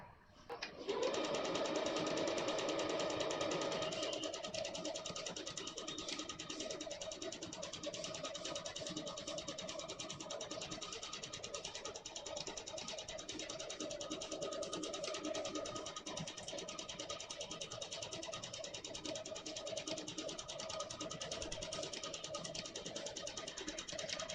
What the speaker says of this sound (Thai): ค่อยๆเย็บนะคะ